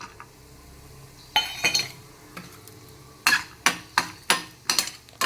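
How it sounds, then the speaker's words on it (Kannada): Cashews and almonds cooking in ghee in a pan, with a soft sizzle beneath a series of sharp, close stirring scrapes and clinks of a utensil against the pan, coming in quick bursts toward the end. "ಸ್ವಲ್ಪ ತುಪ್ಪ ಹಾಕಿ ಗೋಡಂಬಿ ಮತ್ತು ಬಾದಾಮ್ ಫ್ರೈ ಮಾಡ್ಕೊಂಬಿಡ್ತೀನಿ"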